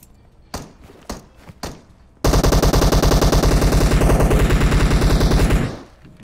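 Gunfire in the mobile battle-royale game PUBG Mobile opens with a few scattered single shots, then a loud, close, rapid automatic burst rattles on steadily for over three seconds before stopping.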